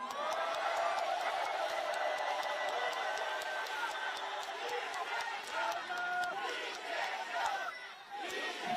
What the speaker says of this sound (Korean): 민주당 국회의원들에게 응원의 함성과 박수를 보내주시기 바랍니다